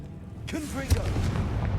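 A Confringo spell blast in Hogwarts Legacy hits with a sharp thump partway through, surrounded by whooshing magical chirps and a low rumbling bed, with a voice faintly present.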